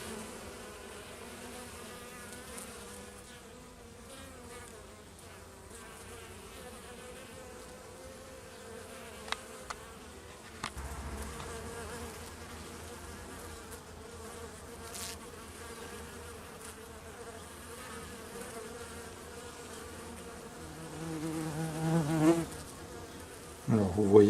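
Honeybees buzz at a hive entrance while bringing in pollen, a soft continuous hum of many insects with occasional nearer passes. The buzzing grows louder toward the end.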